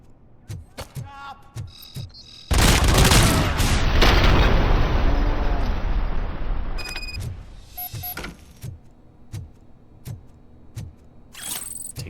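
Gunfire in the video game Robocop: Rogue City: a sudden loud blast followed by a long roaring rumble that slowly fades, with scattered shots and metallic clanks before and after.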